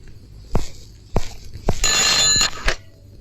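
A telephone rings while a call is placed to a police commissioner's home: a sustained bright electronic ring between short, sharp knocks of handling the handset, close and fairly loud, with no talking.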